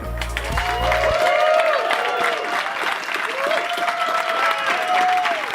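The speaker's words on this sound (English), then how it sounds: "Big round of applause." Conference audience at Codegarden 2024 in Odense breaks into sustained applause, a dense, steady wash of many hands clapping with some cheering, continuing for several seconds after a brief low rumble at the start.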